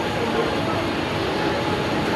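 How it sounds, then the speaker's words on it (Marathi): A train rolls into a busy station with a steady, loud rumble and roar that stays constant throughout, dense and unbroken. "ट्रेन आली, लगेच धावून पकडली"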